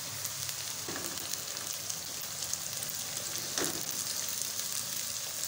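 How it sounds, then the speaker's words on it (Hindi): Onions sizzle steadily in a pan with ginger-garlic paste for Punjabi daal mash, a continuous bright frying hiss with a couple of soft stirring scrapes, moderately close and with no talking. "प्याज़ों को हमने अच्छे से फ्राई करना है जब तक कि अच्छा सा गोल्डन कलर नहीं आ जाता"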